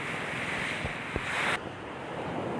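Sea waves wash continuously onto the seashore at a beach used for handline fishing, a steady surf roar with wind buffeting the microphone and a couple of soft thumps.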